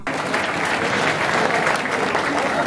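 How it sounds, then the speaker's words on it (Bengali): An audience gives sustained, dense applause to welcome a guest onto the stage at a public political gathering, a loud, continuous wash of clapping from start to finish. "সবাইকে করতালির মাধ্যমে, জোরদার করতালির মাধ্যমে ওনাকে স্বাগত জানানোর জন্য অনুরোধ করছি"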